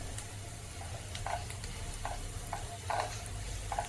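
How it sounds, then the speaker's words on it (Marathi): Turmeric and onion sizzle in hot oil for kanda pohe, a spoon scraping and stirring in soft repeated strokes over a steady quiet frying hiss. "हळद पण आपल्याला तेलामध्ये चांगली भाजून घ्यायची म्हणजे व्यवस्थित परतवून घ्यायचं"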